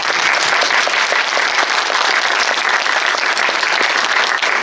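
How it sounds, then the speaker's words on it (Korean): A crowd at a film screening Q&A with the director and actors of the film 비행 claps loudly and continuously, a thick, close wash of applause with sharp individual claps standing out throughout. "박수 한번 부탁드립니다."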